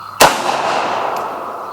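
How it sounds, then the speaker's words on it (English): A single loud shot from an AKM-type rifle firing 7.62x39 122 grain standard ammo, one sharp crack followed by a long ringing decay outdoors, with no talking. "We're shooting the 122 grain Red Army standard ammo."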